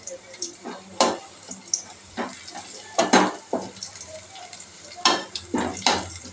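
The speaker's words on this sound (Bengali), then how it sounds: "পেঁয়াজ আর রসুন দিয়ে লাল লাল করে ভেজে নিচ্ছি।" Onion and garlic fry in hot oil for a dal tempering, a constant sizzle broken by repeated sharp spatula scrapes and clatters against the pan.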